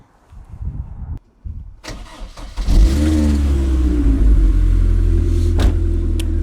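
A car engine cranks briefly after a few handling noises, catches and settles into a steady, loud idle rumble that continues to the end, with a short sharp click near the close.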